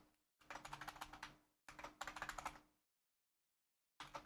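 Fast typing on a computer keyboard comes in two bursts of rapid, close clicking, followed by silence and then a short final burst. A faint steady hum sits underneath the keystrokes.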